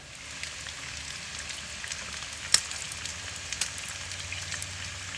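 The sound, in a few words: bacon sizzling over a hickory fire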